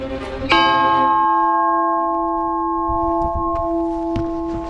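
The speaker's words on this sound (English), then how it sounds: "I said I was gonna ring the bell." A single bell at a ski resort in Niseko, Hokkaido, is struck once and rings out loudly, its tone sustaining and slowly fading over several seconds, with faint background noise.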